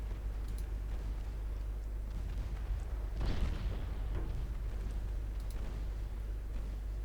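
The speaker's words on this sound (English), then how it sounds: "Guns are doing work." Heavy naval guns fire from warships in a 1963-era battlecruiser engagement in Ultimate Admiral Dreadnoughts, with one loud boom standing out over a steady low rumble of battle and ambient noise.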